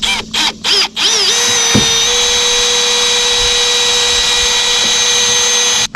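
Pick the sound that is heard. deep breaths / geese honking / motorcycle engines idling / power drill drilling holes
power drill drilling holes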